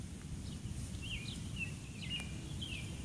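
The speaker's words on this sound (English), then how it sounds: "Little bird, you're too close to the street." A little bird calling near a street, several thin chirps and short whistles over a low rumble of traffic, faint and a little distant.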